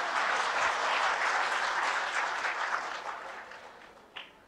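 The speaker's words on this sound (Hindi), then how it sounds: "एक बार अपने लिए तालियां बजाइए" Audience at a spiritual discourse clapping loudly, a dense sustained burst of many hands that gradually thins and fades, ending with a lone sharp clap.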